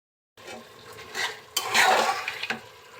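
Beef pieces stirred with spices in a pan for a Bengali beef curry: a utensil scrapes and clatters against the pan in short strokes over a light sizzle, close and fairly loud.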